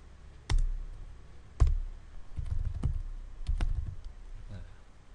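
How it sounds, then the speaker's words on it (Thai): Keys on a computer keyboard clacking in sparse, irregular presses, a few sharp louder strikes mixed with lighter taps, close by and without talk. "ผมจะลบ ทั้งหมดแล้วผมจะพิมพ์ใหม่"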